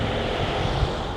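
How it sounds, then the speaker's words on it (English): A noisy fan runs in a workshop where a Prevost bus is being serviced, producing a continuous broadband whooshing roar with a low hum, steady and fairly close, with no talk. "If the fan's been noisy, I apologize."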